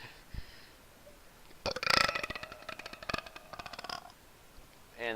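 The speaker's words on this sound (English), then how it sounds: "That was a fantastic burp." A single loud, close burp rumbles and rattles for a few seconds in stuttering pulses, with a brief croak at the end and no speech.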